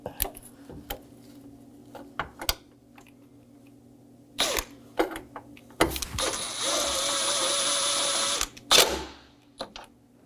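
Power tool driving 7mm bolts near the horns on a 2018-2024 Chevrolet Equinox while a windshield washer reservoir is fitted, a few short bursts and then a sustained whir of about two seconds, punctuated by scattered clicks and knocks.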